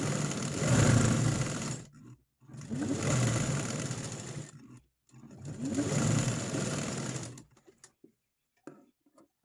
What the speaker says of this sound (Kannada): ಈ ಥರ ಸ್ಟಿಚ್ ಹಾಕ್ಕೊಳ್ಬೇಕು.